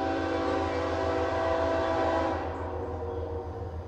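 A Norfolk Southern freight train running light with two BNSF units passes close by in Spartanburg, South Carolina, with a loud, continuous rumble layered with steady horn tones that eases slightly toward the end.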